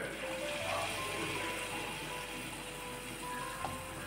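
Pumpkin sweet bonda batter dropped into hot oil in a pan on the stove: a steady, dense sizzling and bubbling hiss, close and continuous throughout.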